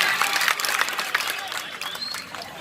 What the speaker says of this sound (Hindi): ठोको ताली, ठोको ठोको ताली ठोको।